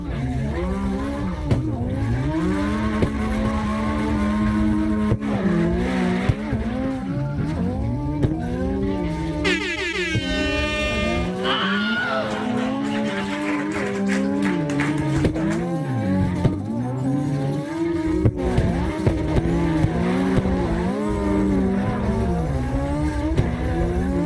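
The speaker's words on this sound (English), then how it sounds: "Sliding that BMW real nice." A BMW drifts in CarX Drift Racing Online, its engine revving continuously with shifting pitch as the tires squeal through long slides, steady and close throughout.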